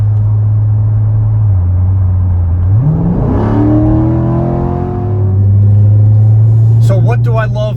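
A Chevrolet C7 Corvette on Continental Extreme Contact Sport tires makes a 0 to 60 run without launch control: a loud, close engine drone that rises in pitch through the gears with a shift midway, then fades as it settles.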